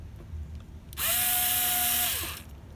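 A cordless power drill drives a screw into a plate in one steady, loud whir lasting about a second, with rising pitch as it spins up and a clean stop, against a quiet room.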